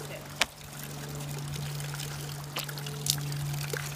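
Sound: natural spring water pouring from spring outlet

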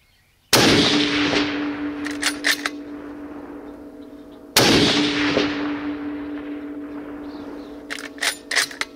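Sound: 300 Win Mag rifle shot at a woodchuck

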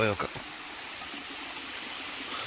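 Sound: small waterfall stream at Guna caves, Kodaikanal

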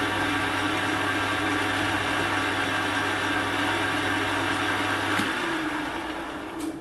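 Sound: machine spinning a homemade carbide fly cutter at 620 RPM

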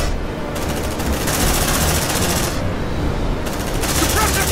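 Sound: suppressive gunfire in Aliens Dark Descent video game

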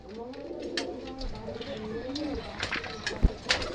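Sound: pigeons cooing at a pigeon sale

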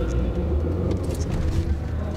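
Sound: Mini car engine driving in Madrid metro

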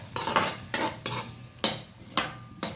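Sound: stirring coconut pieces with turmeric in a pot

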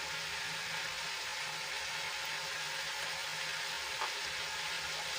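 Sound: stirring spices into frying capsicum gravy

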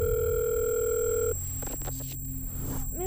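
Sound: telephone dial tone while placing a call

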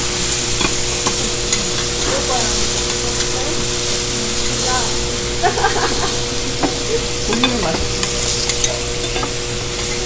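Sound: bean sprouts stir-fried Japanese style on grill

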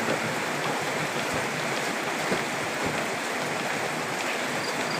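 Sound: rain falling

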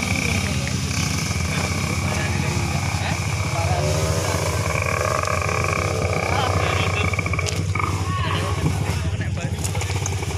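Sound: Honda CRM 250 motorcycle engine on an extreme trail

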